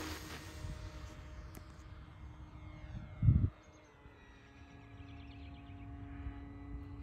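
An E-flite PT-17 model biplane on 4S power, a faint electric motor whine drifting in the distance, with a brief low thump partway through.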